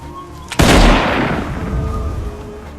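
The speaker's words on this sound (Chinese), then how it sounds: "眼见目标快速逃进了丛林，领队的军官只好端枪开始射击" A single loud rifle shot fired by an officer in a war film, a sudden sharp blast followed by a long rumbling decay over a dense background.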